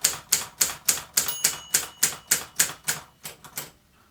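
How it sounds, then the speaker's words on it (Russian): A Moskva-4 typewriter is typed near the end of a line until its keyboard lock engages: about a dozen evenly spaced, crisp key strikes, close and clear, with a brief bell-like ring partway through before the strikes fade and stop. "Вот на этом моменте сработала блокировка клавиатуры для того, чтобы не зайти за лист."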